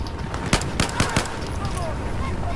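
Bursts of automatic gunfire in Battlefield 4, several sharp shots about half a second apart over constant battlefield noise, with a voice talking underneath.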